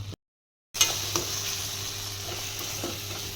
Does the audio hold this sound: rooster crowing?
no